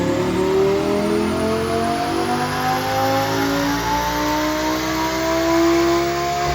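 A rear-wheel-drive-converted Audi R8 V10 revs up on a dyno, its engine note climbing steadily through the gears in a loud, continuous rising howl.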